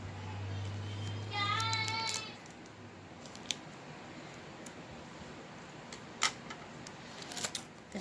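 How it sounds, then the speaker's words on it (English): Scissors trim the curling edge of a transfer sheet for polymer clay, giving a few faint, sharp snips spread over several seconds after a brief hum of background sound, with no talking. "Gonna take my scissors and I'm gonna kind of trim off this side that wants to curl up"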